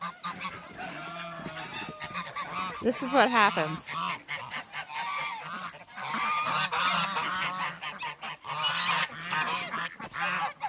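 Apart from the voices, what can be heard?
geese honking on water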